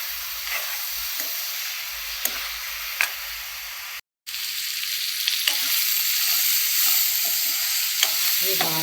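Mixed vegetables and sweet corn frying and being stirred in a pan, a steady sizzle with faint scraping taps of a spoon, broken by a brief silent gap midway.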